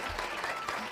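A brief burst of audience applause on a Spanish radio program's 800th-episode celebration, dense and steady clapping, with faint voices mixed in.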